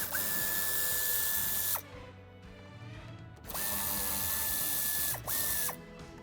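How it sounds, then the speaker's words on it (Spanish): Power screwdriver whirring in three bursts as screws come out of the lower trim panel under the dashboard of a 2020 Cupra Formentor, the longest spin first, then a second long run and a short final burst, close and steady. "Retiraremos los tornillos que sujetan esta parte inferior."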